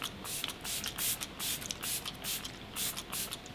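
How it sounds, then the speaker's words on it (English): Catrice Prime and Fix setting spray from the Clean ID line mists onto a face in a rapid run of about eight short, close hissing bursts, evenly spaced and fairly soft, with no talking. "Now last step, a little bit of setting spray."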